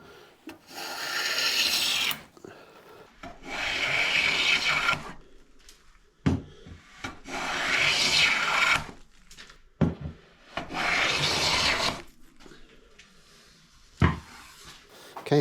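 Hand shaving of a soft maple thinline bass body, with long rasping strokes in repeated bursts separated by short pauses and occasional knocks, close and fairly loud, with no voices.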